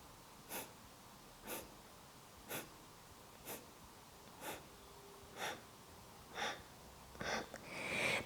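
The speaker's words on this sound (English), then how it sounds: "start to exhale in as many as possible little exhales also through the nose" A series of short, sharp nasal exhales during a breathwork sequence, about nine puffs spaced roughly a second apart, quickening and growing louder toward the end, close and alone without talk.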